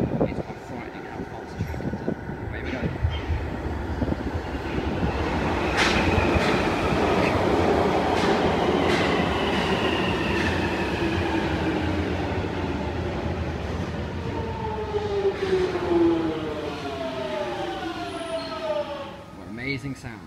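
A 1996 British Rail train rolls into a station near London Bridge, a loud rising rumble and rail clatter with squealing brake tones building and easing as it pulls in; no one speaks.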